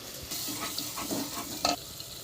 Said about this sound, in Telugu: బిర్యానీ మసాలా, పుదీనా, కొత్తిమీర బాగా వేగాలి